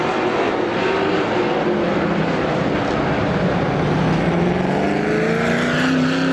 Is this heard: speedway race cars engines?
yes